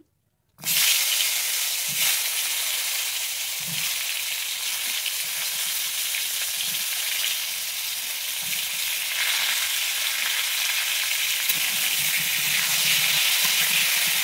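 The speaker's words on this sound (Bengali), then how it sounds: "আমি এবারে পটলগুলোকে ভেজে নিচ্ছি।" Pieces of pointed gourd (potol) sizzle in hot white oil in a wok, a loud steady crackling hiss starting abruptly and holding throughout, with faint occasional stirring knocks underneath.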